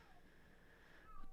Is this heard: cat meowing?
yes